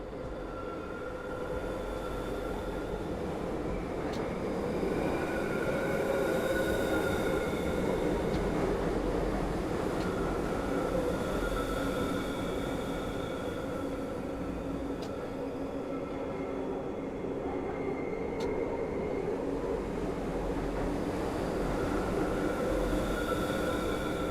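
London Underground Bakerloo line train running in Train Sim World 4, a loud, steady rumble of wheels and motor with faint squeals and brief clanks throughout, with no talking.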